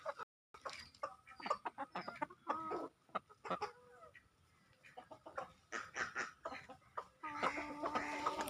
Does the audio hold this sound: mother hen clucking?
yes